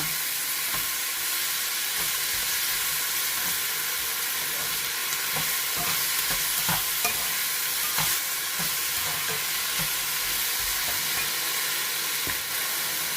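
Shrimp and vegetables being stir-fried with oyster sauce and seasoning in a hot pan, a constant loud sizzle with repeated scraping clicks of a spatula tossing the ingredients, close up with no talk.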